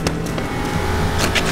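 A car speeds past fast and loud, its engine roar steady across the moment with bursts of tire and road noise, no talking over it.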